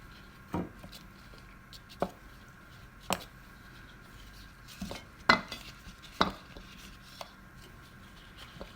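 Potato pieces go into olive oil in a pan and are stirred, giving a series of sharp utensil knocks and scrapes roughly once a second, with a faint background hum and no sizzle to speak of.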